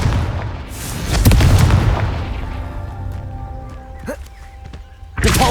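Confringo fire spell blasts in Hogwarts Legacy: a loud booming burst with thumping impacts, then lingering rumble and ringing tones, and another sharp blast at the end.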